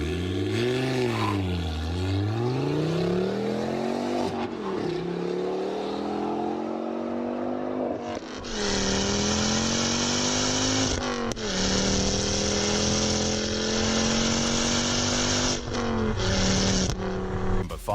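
Hot hatchback engine, tuned to over 300 hp, revving loudly on its own, rising and falling through several sustained pulls with a raspy, buzzing exhaust note.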